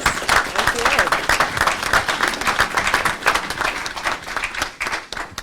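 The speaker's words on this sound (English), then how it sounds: "Let's give a round of applause." A room of attendees at a college board of trustees meeting breaks into a round of applause, dense steady clapping for several seconds with brief talk mixed in.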